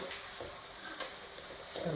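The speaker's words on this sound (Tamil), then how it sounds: "வறுத்து தனியாக எடுத்துருவோம்" Soft, continuous sizzle of food frying in a pan, fairly quiet, with a few light clicks and stirring taps.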